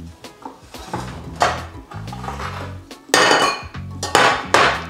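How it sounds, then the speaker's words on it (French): Ingredients dropped into a cooking pot for an African chili pepper sauce: a run of close, clattering knocks and thuds against the pot, with brief metallic clinks between them, and no talking. "je vais tout mettre dans la marmite"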